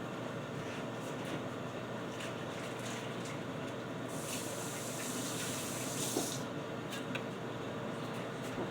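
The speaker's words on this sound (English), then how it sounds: "I had to wash my hands" Tap water running into a kitchen sink while hands are washed, a steady faint hiss of flow that swells louder for a couple of seconds midway, with small splashes and no talk.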